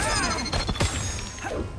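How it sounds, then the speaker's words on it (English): A small glass-smash effect from the Mortal Kombat 1 video game: a few sharp crashing hits around the middle, mixed into ongoing game audio. "I keep hearing the little glass smash."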